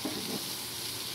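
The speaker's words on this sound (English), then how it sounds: "And finally with the chopped cilantro, mix it properly," Potato bean masala fry with chopped cilantro being stirred in a pan, giving a steady soft sizzle with scraping from the stirring, close and continuous and heard on its own.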